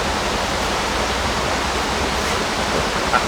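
River water at Assin Manso Ancestral Slave River Park flows as a steady, dense rushing wash, continuous and fairly loud with no voices.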